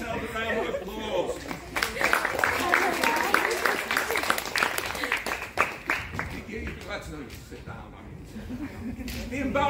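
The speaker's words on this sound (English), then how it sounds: "Give yourself a round of applause." An audience at a university talk gives a round of applause, a crowd of hands clapping with scattered sharp claps, overlapped by chatter and laughter, tapering slightly toward the end.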